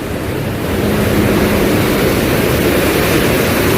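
Water surges out of the Kosi barrage, a loud, steady roar of rushing flow that fills the whole span without a break.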